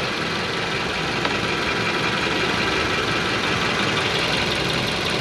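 A Hyundai Elantra engine idles steadily up close with the AC compressor spinning, a constant loud mechanical drone and whir that holds unchanged throughout.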